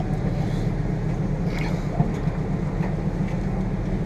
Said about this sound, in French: Là, la péniche va les amener au large.